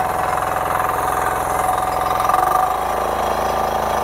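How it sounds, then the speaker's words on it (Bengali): A 10 HP power weeder fitted with a 186-type engine runs steadily throughout, a loud, close, continuous throbbing drone with a slight drop in pitch and a rougher pulse toward the end as it churns soil. "আপনারা বন্ধুরা দেখতে পাচ্ছ এই পাওয়ার উইডারটা চালাচ্ছে কিভাবে"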